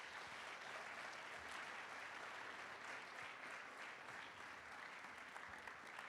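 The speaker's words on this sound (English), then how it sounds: "let me give them both a terrific round of applause" Sustained audience applause at the close of a debate on whether environmental, social and governance factors should influence investment decisions, steady and fairly distant, filling the room without talk.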